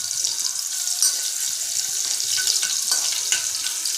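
Garlic stir-frying in hot oil for a chickpea curry, a steady bright sizzle with scraping stirs throughout, close and continuous with no talking.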